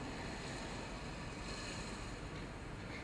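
Ocean waves roll and wash in a steady, loud, unbroken roar mixed with wind noise, with no voices or pauses throughout.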